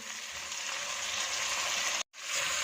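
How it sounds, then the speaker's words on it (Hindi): Tomatoes frying in a pan for dal palak make a steady, fairly faint hiss that cuts out briefly near the end and then returns, with no voices. "टमाटर को इसमें शामिल कर देंगे और इसी तरह इसे भूनेंगे।"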